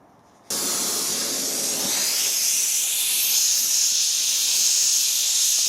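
A brazing torch roars steadily as it heats a cast pulley during a braze repair, its flame igniting abruptly into a loud, constant hiss that builds slightly and carries on alone without pause.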